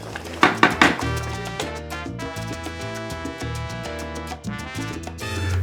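A metal cooking pot of cooked tomatoes clanks a few times early on as it is lifted off the stove, followed by softer kitchen handling sounds over steady background music.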